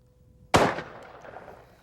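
A single loud shotgun blast fired at a clay target in a shooting contest, sharp and close, followed by a decaying echo over faint background noise.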